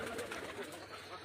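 Domestic pigeons coo on a farm holding about twenty breeding pairs, a soft, steady murmur of overlapping calls that fills the whole short stretch at a moderate distance.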